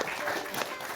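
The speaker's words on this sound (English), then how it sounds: "Big round of applause." A brief burst of audience applause, dense and continuous clapping heard close for about a second with no speech over it.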